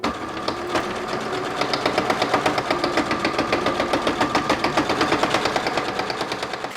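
A sewing machine stitches a patchwork travel bag made from fabric scraps, producing a rapid, even mechanical chatter of needle strokes. It is close and steady throughout, with no talking.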